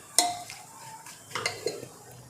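Dal and jaggery being stirred together in a pot on a gas stove for puran poli filling: a few sparse, quiet scrapes and clinks of a spoon against the pot, with no talking.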